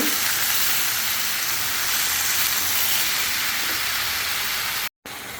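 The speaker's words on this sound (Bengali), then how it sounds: "এই যে তরকারিগুলো আমি আবারও নেড়ে দিব" Ridge gourd and potato pieces frying in a pan for a fish curry, a loud continuous hiss of sizzling oil close up, broken by a brief cut near the end, with no talk.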